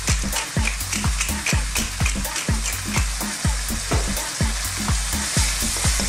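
Beef and bean sprouts, seasoned with soy sauce and black pepper, stir-fry in a hot pan with a loud, continuous sizzle. A utensil scrapes the pan in a steady rhythm of stirring strokes, roughly two per second, with no talk.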